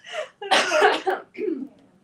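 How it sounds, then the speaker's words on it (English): A person clears their throat loudly and up close, a harsh rasping burst followed by a shorter second rasp. "I'm gonna clear my throat though."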